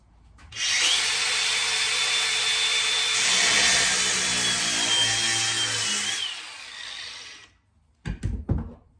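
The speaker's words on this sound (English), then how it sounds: "do a small cut across the bolt, then use a big screwdriver to undo it" A power tool cuts a small slot across a stuck bolt while building a snake enclosure, giving a loud, steady grinding whine for about six seconds that tapers off, followed by a few brief clattering knocks.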